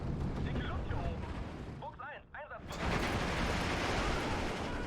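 Rocket barrages and explosions rumble through a World War II battle in the strategy game Steel Division 2, with dense, rolling blasts and crackling impacts, a brief dip, then a renewed heavy roar.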